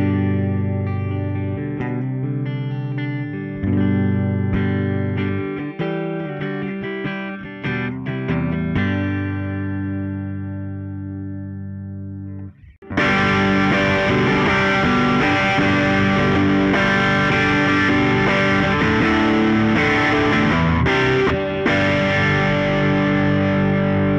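Electric guitar played through a Line 6 FireHawk FX multi-effects unit with reverb, delay and chorus: gentle ringing notes first, then a sudden jump to loud, dense distorted strumming that sustains to the end.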